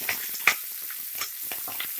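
Onion, curry leaves and green chilli frying in a pan for Kannada avarekalu beans bassaru, with a soft steady sizzle and a few sharper stirring scrapes, no talking.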